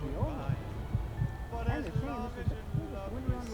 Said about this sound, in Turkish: Şu anda kalp atışımızı duyabiliyorsunuz.